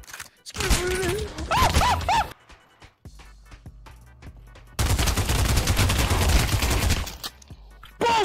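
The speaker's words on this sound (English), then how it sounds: "Who the fuck is shooting me from every direction?" Gunfire in the video game Pavlov, loud bursts of rapid shots in two long stretches with a quieter gap between, overlaid with brief voice sounds.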